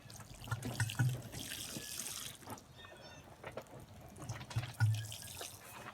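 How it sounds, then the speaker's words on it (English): Water trickles and splashes softly, poured in a light stream onto soil, faint and close with a quiet background. "A little bit of water to this one here"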